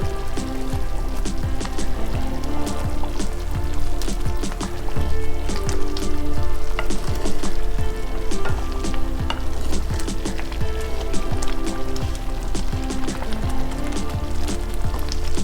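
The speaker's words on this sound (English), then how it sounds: "We'll keep stirring it till again the ghee separates from the semolina." Semolina frying in ghee for sooji halwa, stirred continuously in a pan: a dense, steady sizzle with scraping and crackle running throughout, close and fairly loud, with no talking.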